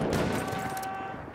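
Machine gun fire in Battlefield 1, a steady dense roar of rapid rounds blending into a continuous loud wash throughout the short moment.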